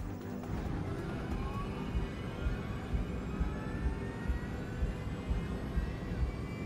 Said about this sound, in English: the sound of the engines is recorded in the background on the cockpit voice recorder